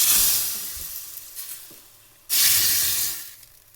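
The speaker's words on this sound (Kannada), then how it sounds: "ಒಗ್ಗರಣೆನೂ ರೆಡಿಯಾಗಿದೆ, ಇದು ಕುದೀತಾ ಇದೆ" Oggarane tempering for dill leaf saaru sizzles hard in two loud bursts, the first fading away before a second sharp hiss flares up and slowly dies down, with no talking.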